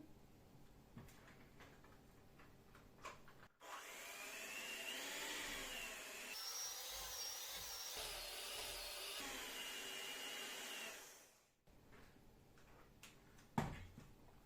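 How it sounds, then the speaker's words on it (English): A handheld electric mixer kneads bread dough for a breakfast loaf, its steady motor whine running loud and continuous for several seconds between quieter handling noises, with no talking. "We will grab our hand mixer and knead the dough again"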